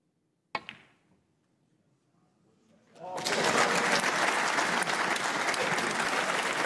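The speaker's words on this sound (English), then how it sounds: "getting a huge cheer" Snooker crowd in a packed arena for a 2018 semi-final between Ronnie O'Sullivan and Mark Selby: one sharp ball click, a quiet pause, then loud sustained applause and cheering swelling up and holding steady.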